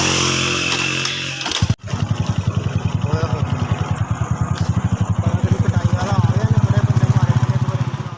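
A motorcycle engine runs at idle as the bike is parked at a shrine entrance, heard close and loud with a steady, rapid putter after a brief cutout.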